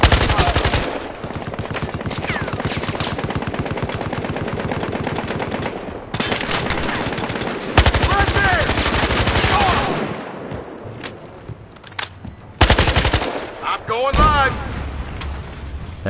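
Sustained machine gun fire in the video game Battlefield: Hardline: loud, dense automatic bursts lasting several seconds each, broken by short pauses, with a voice occasionally heard beneath.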